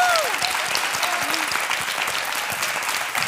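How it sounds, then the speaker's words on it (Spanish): A television studio audience breaks into a strong, sustained round of applause, with a voice calling out briefly under the dense clapping at the start. "que es con un fuerte aplauso, por favor"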